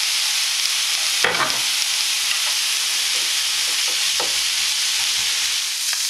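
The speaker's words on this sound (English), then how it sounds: "now that the onions and bacon have been fried for a couple of minutes" Onions and bacon sizzle steadily in olive oil in a pan, a constant bright hiss with a few soft clinks and stirring scrapes scattered through it, close and fairly loud with no talking.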